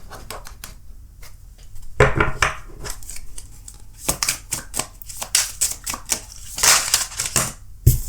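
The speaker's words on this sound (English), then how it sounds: "let's pull some oracle cards" Oracle cards being pulled and shuffled by hand at close range, loud bursts of riffling, sliding and slapping card stock in an uneven rhythm with short pauses between handfuls, no speech.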